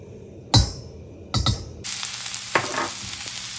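Butter hitting hot oil in a frying pan, with two sharp bursts of sizzle followed by a steady, close crackling fry that keeps going with occasional pops.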